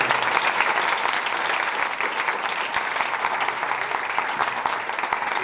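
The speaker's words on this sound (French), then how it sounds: "On peut les applaudir, hein, franchement." A hall audience at the 2023 final of an eloquence contest applauds in a dense, continuous roar of many hands clapping that stays loud and even throughout, with no speech over it.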